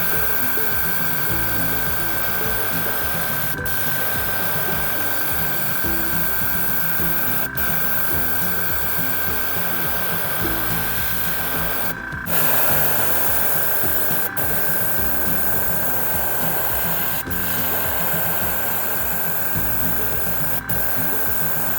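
An airbrush sprays purple pearl paint down the middle of a jerkbait, a steady close hiss of compressed air running nearly nonstop, with a few brief breaks and a faint high whine beneath.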